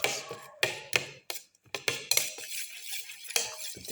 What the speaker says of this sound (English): Mix in the ginger pieces